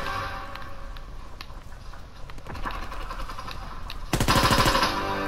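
Machine gun fire from an M1941 rifle in Call of Duty WW2, heard as rapid rattling bursts with scattered shots, ending in a loud, dense close-range burst, with no talking.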